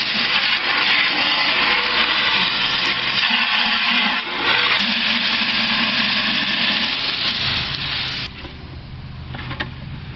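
A garden hose sprays water steadily over a filter, rinsing it out in a continuous loud broadband rush for about ten seconds, easing slightly near the end.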